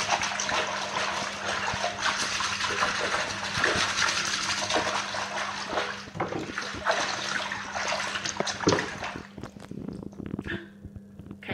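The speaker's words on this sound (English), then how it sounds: "So watch what happens now when I swish it all around." Water sloshes and swirls continuously in a tub, a close, busy splashing that eases off toward the end.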